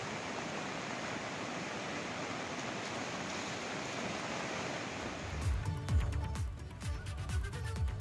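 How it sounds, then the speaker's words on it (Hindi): Fast-flowing, rain-swollen Alaknanda river water roars steadily as a dense, constant rush in Rudraprayag, Uttarakhand. Lower rumbling and faint voices join near the end. "रुद्रप्रयाग में इसका बहाव देखिए आप"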